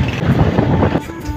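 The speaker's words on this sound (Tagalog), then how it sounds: "Naririnig nyo ga? Di pagkakalakas ng hangin." Strong, cold wind gusts across the microphone outdoors, a loud, continuous rushing roar with buffeting throughout.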